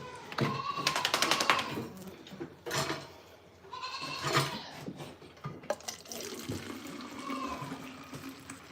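A ram goat on a goat farm bleats in several loud, wavering calls spread across the moment, with other farm noise in between and no talking.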